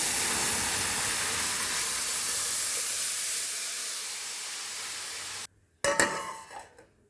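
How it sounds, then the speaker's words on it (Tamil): Rasam made with crushed dried red chillies boiling in a pot, a steady loud bubbling hiss that runs unbroken, then cuts out abruptly and gives way to a few brief clatters and scrapes. "ரசம் நல்லா கொதிச்சிருச்சுங்க"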